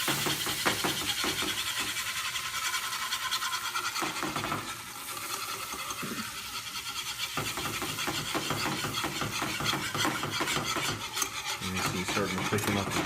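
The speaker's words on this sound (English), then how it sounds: "Stir it." A spoon stirs thickening stock in a pot, making a continuous rhythmic rasping scrape against the bottom and sides, close and steady throughout with brief pauses and no voices.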